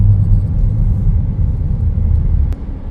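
A Ford Ranger pickup with a fuel injector fault sits stopped at a red light, its engine giving a low heavy rumble that swells and sags as the throttle is pressed, close and fairly loud.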